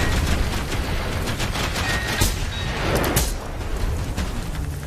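Rifle gunfire in the shooter game Generation Zero, a dense fusillade of loud rapid shots with sharp bursts around the middle, dense and continuous for the whole stretch with no voices.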